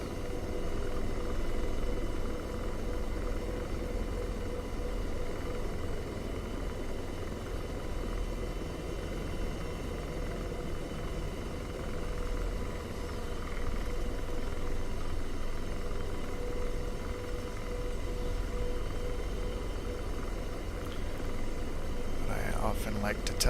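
A helicopter in the flight simulator game DCS gives off a continuous, steady rotor and engine drone that holds level throughout, with a voice heard faintly over it.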